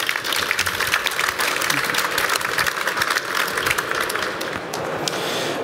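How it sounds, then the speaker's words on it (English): A conference audience applauds a panel steadily for several seconds, dense clapping that tapers off slightly near the end. "Could we please give our panel a round of applause?"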